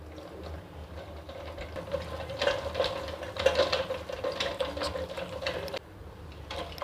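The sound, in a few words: whisking butter and powdered sugar in a bowl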